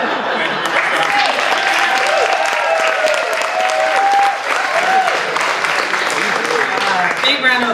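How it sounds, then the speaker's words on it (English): A comedy-night crowd applauds after a comedian's set, loud continuous clapping filling the room, with cheers and some voices mixed in. "Big round of applause for James."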